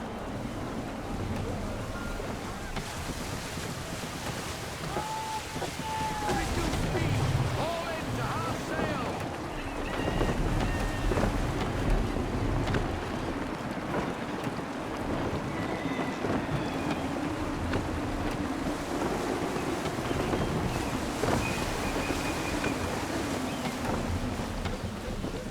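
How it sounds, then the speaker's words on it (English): Steady gusting wind at sea in Assassin's Creed III, a constant broad roar with creaking and washing water beneath, as a sailing ship moves along while voices speak over it. "Gusty winds can be difficult to manage."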